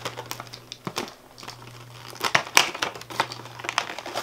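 Plastic and cellophane packaging of an Ulta Beauty eyeshadow palette being opened, crinkling and tearing in close, irregular bursts that swell toward the middle, with no talking.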